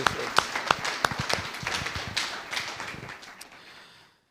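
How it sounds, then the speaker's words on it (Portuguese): A church congregation gives a burst of scattered clapping, loud at first, then thinning and fading out over a few seconds, with some voices mixed in. "Dê sua melhor salva de palmas ao Senhor"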